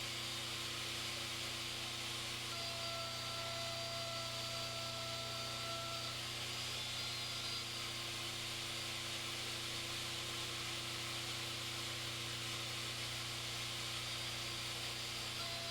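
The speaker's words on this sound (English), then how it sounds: "Place the board against the fence and make your cut." Steady loud whine of a saw running continuously while a board is cut against the fence of an Incra jig, a sustained broadband drone with tonal hum, close and unbroken, no voices.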